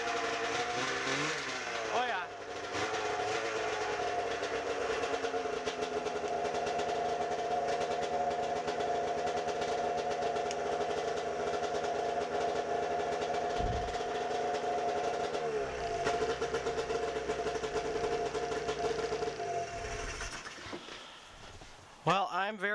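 An Arctic Cat snowmobile engine runs steadily on its first start after an ignition and safety switch diagnosis, smoking heavily with uncleaned carbs, a loud continuous drone with brief dips near the start and end.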